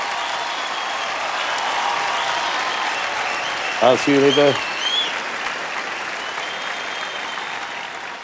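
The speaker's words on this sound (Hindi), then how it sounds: "जोरदार ताली एवरीबॉडी" A large audience at the Filmfare Awards show applauds in a steady wash of clapping that runs throughout, with a brief spoken line from a host cutting in midway.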